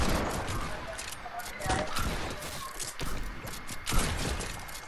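Sniper rifle fire in a shooter video game: several sharp, loud shots crack through a dense, busy game mix.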